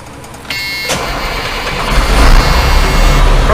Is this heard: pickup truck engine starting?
yes